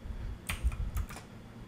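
A few computer keyboard keys pressed for Photoshop shortcut combinations such as Ctrl Alt Shift S, heard as two short clusters of close, soft clicks against a quiet room.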